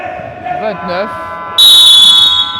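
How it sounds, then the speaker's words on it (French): Basketball game buzzer sounding for the half-time break in a veteran game between Ndogbong and Yassa: a loud, steady electronic tone lasting close to a second, following a brief stretch of other tonal sound. "Le buzzer qui a retenti."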